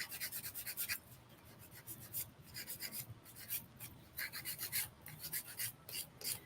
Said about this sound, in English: Just hold it like 90 degree or flat with your nails and give a good buff of filing.